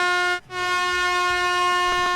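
An air horn sound effect blares as a steady, loud, sustained tone for over two seconds, briefly cut near the start, with faint background sounds beneath; no talking.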